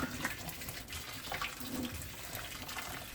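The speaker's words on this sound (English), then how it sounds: "I pour boiling water." Boiling water pours and splashes steadily in a faint, close stream from a kettle over a raw duck in a sink.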